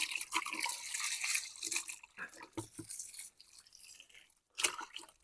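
Water is poured onto the soil around a newly planted avocado tree, giving irregular splashing, trickling and dripping with short pauses, close and fairly soft.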